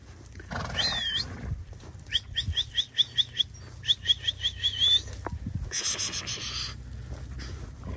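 Pregnant mares and foals, with Donchak and Hanover among the breeds, are heard as a high whinny near the start and a short series of rhythmic chirping calls, quiet and alone.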